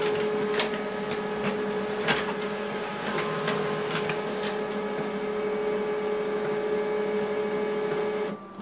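An HP LaserJet 3102 printer runs through a double-sided document job with a steady mechanical whir and hum, light ticking and clicking on top, ending with a brief drop as the mechanism settles.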